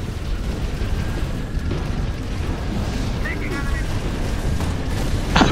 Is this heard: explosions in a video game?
yes